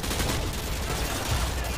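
Rapid gunfire in the video game Call of Duty Modern Warfare 2, a dense, loud, continuous barrage of shots filling the whole moment.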